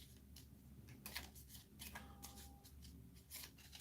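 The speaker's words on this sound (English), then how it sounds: "Shuffle it one way, shuffle it the other way." Deck of game cards being shuffled by hand, faint crisp riffles and rubbing swishes in short bursts, quiet and close with no talking.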